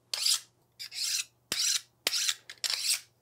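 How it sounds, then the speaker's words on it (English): A very sharp knife slices tapers into foam for a sword and shield prop, giving about six short, close rasping strokes with brief pauses between them and no talk. "try and cut these tapers here, making sure that my knife is very sharp for this"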